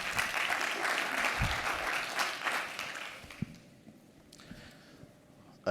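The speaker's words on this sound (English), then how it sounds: "let's give him a round of applause" A crowd at an investment summit applauds with steady clapping that fades out after a few seconds, leaving a quiet room with a few stray sounds.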